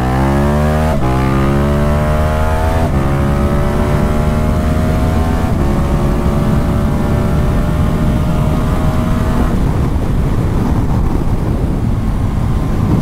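KTM Super Adventure 1290 S motorcycle accelerating hard from 100 to 200 km/h on a flat straight road, loud continuous engine roar rising in pitch through several gear shifts, with wind rush close to the rider and no talking.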